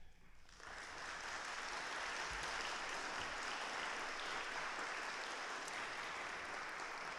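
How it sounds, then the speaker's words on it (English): Sustained applause from a large crowd at a school graduation ceremony, steady and loud for several seconds after a brief quiet start, with no talking over it. "please give each of us a round of applause and praise"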